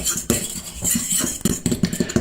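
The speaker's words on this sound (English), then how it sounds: "you just want to start to mix them up with the fork and get them all blended together" A fork stirs dry naan flatbread ingredients in a bowl, clicking and scraping against the sides in quick, uneven strokes, close and fairly loud with no talking.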